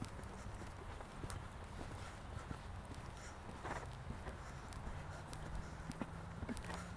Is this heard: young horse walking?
yes